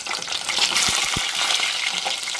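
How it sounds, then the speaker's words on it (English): Banana peppers frying in warm oil in a pan, a loud, continuous crackling sizzle with a couple of brief soft knocks from the peppers or utensil partway through. "now that my oil is warm, wasn't expecting that, we're going to drop in our chili"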